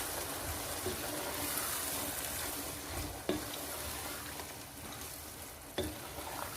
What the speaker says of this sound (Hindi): और इसको कुछ टाइम के लिए ऐसे ही भूनते रहेंगे, तकरीबन 5 से 6 मिनट तक भूनेंगे हम